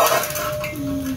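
A metal pot and small saucepan clatter and clink against each other while boiled pasta is moved in a kitchen, a short close burst of ringing metal scrapes.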